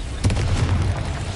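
A fire spell cast in Hogwarts Legacy bursts out as a loud, close whoosh with a deep rumbling roar that flares and holds for about a second before easing off.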